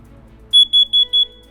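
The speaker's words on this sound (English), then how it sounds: "Notice how the carbon monoxide detector is 4 beeps." A household carbon monoxide detector goes off with a single burst of four quick, evenly spaced, high-pitched electronic beeps, loud and close in an otherwise quiet room.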